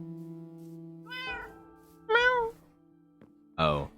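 A cat in the Minecraft video game, in a modded UHC match, meows three times, short, clear and close, with a low steady hum beneath.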